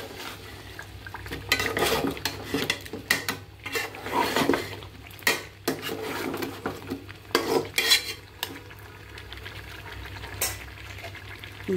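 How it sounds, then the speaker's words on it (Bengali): Beef and potatoes stirred and sautéed in a pan for an evening snack, a spatula scraping and clattering against the metal in irregular close bursts over a faint steady sizzle, no voices. "এখন আলু দিয়ে আবার ভালো করে একটু কষিয়ে নিতে হবে"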